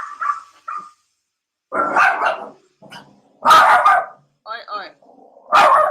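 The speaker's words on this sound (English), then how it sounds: "I hear a dog barking" A dog barks in a few loud, close bursts, interleaved with a person talking nearby.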